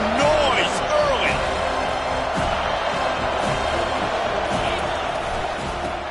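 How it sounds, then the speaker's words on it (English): Stadium crowd at a football game roaring and cheering steadily throughout, a dense wash of voices with occasional whistles and shouts, loud and continuous. "This crowd bringing the energy and noise early."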